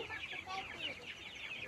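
Chickens clucking in a pen, a soft, continuous stream of overlapping hen calls at moderate distance with no other sounds standing out.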